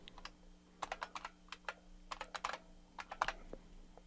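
Keystrokes on a computer keyboard as a root password is entered during a Kali Linux install in VirtualBox: a quick, irregular run of close, crisp clicks with short pauses, over a faint steady hum.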